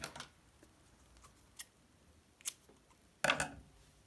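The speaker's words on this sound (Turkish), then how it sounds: "Son sık iğneyi örüp ipi kesiyorum." Scissors snip through crochet yarn at the end of a row on a crocheted baby romper: a few faint ticks and rustles, then one sharp, close cutting snap near the end.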